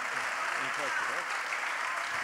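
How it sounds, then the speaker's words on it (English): An audience applauds a professor at a town hall event, with steady broadband clapping filling the whole stretch and a few faint voices underneath. "Please, a big round of applause for the professor as well."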